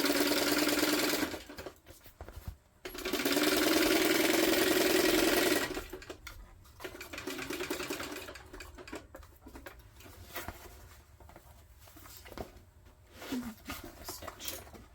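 Sewing machine stitching a Rachel tote bag, two bursts of fast, steady mechanical whirring at the start, then quieter handling, rustling fabric and intermittent short runs of the motor, fairly close.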